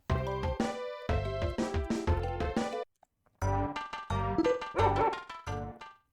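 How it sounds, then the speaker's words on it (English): A dog's bark effect from a Ranma ½ fighting game on the Super Famicom, several bright synthetic yaps in two bursts split by a short pause, loud and close. "It's a barking sound if you continue."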